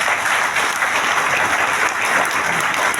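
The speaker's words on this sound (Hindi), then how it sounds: "अपना आशीर्वाद प्लीज दे दीजिए जोरदार तालियों से हमारे ग्रेट पर्सनालिटी हमारे गुरु विनोद सोन" Sustained, dense applause from an audience at a direct selling training event, loud and steady throughout with no pauses.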